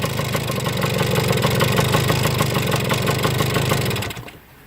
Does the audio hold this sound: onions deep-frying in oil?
no